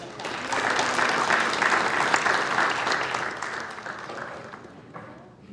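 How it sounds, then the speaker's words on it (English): Sustained applause from an audience at a city council meeting, a dense wash of clapping that holds for several seconds and then slowly fades. "Let's give him a round of applause."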